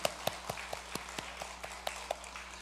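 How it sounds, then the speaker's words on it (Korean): Rhythmic clapping from a church congregation during a Sunday service, evenly spaced sharp claps about four per second, moderately faint and in unison, over a quiet low hum. "우리 하나님께 영광의 박수 올리겠습니다."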